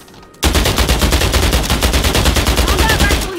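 A combat rifle in a video game firing full-auto, one steady rapid stream of loud, close shots that keeps going for about three seconds after a sudden start.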